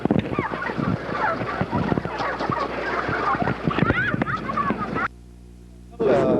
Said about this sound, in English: Here, turkey.